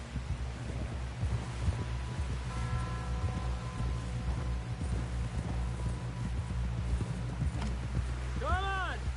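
Rhythmic hoofbeats of a galloping horse in the video game Red Dead Redemption 2 run steadily throughout, with a whinny near the end and low music or ambience underneath.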